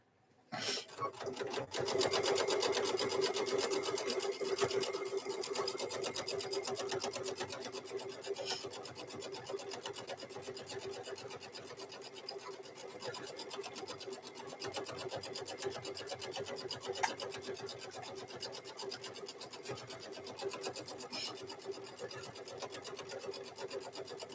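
Sewing machine stitching thick fabric for microwave bowl koozies, a rapid continuous mechanical whirring and needle chatter running steadily at close range for the whole stretch, with slight shifts in pace.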